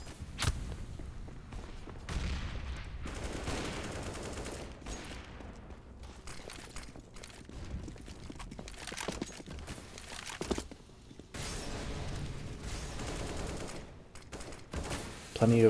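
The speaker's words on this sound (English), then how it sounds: "Plenty of fire towards the mid boxes," Sustained gunfire in the video game CS:GO during a professional esports match on the Mirage map, rapid bursts and rattling volleys that come and go, with short lulls, under the mix of in-game noise.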